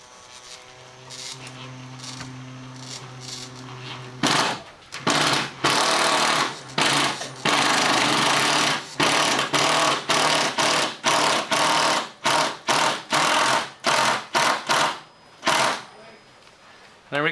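A T30 impact driver drives screws into 2x4 supports for a workbench in a series of loud, rapid hammering bursts with short pauses between them, after a stretch of quieter talk and handling.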